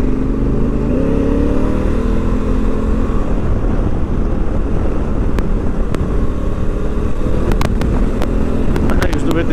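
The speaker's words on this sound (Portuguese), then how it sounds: "Isto é uma moto que gosta de rotação" A loud 2017 Honda Africa Twin motorcycle engine roars and revs continuously at high RPM at close range, with wind buffeting the microphone and a few sharp clicks near the end.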